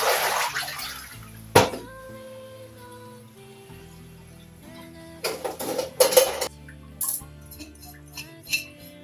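Moringa (malunggay) leaves are washed by hand in water, with splashing and sloshing in a basin and occasional clinks of a pot, set against steady background music.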